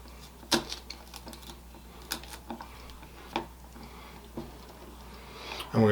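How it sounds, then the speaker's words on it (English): A knife cuts and seeds jalapeno peppers on a board for salsa, giving scattered sharp taps and clicks at an irregular pace, fairly quiet, with a louder knock at the end. "I'm just going to cut this up and seed it. Get the seeds out of here."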